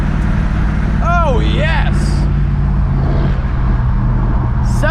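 Wind roar and road noise from a Chevy Blazer convertible with the roof off, cruising at highway speed around 70 mph; a steady loud rush runs throughout, with brief speech and whoops over it.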